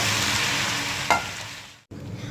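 Garlic ginger paste frying in a pan with browned onions, a steady broad sizzle broken by a brief stirring scrape and a short dip to near silence before the frying hiss resumes.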